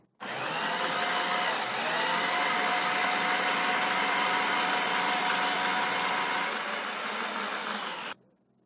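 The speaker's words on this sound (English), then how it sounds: "you're going to use light pressure when you turn the machine on, and then push the food through this spiralizing cutting disc" A food processor fitted with a spiralizing cutting disc runs continuously at a steady, loud motor whine, starting abruptly and cutting off sharply after about eight seconds, with no talking.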